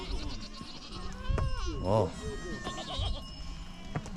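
Goats in a Tibetan nomad herd give a few wavering bleats, one louder call standing out midway, while people talk nearby over outdoor background noise.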